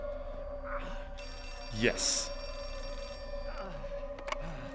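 A telephone in the horror game Outlast 2 rings in a clear bell-like burst, heard under in-game ambience while a voice speaks briefly.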